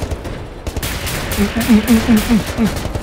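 An energy gun in the video game Wolfenstein The New Order fires a rapid string of punchy, buzzing shots close up, each with a short warbling tone, over loud game background noise.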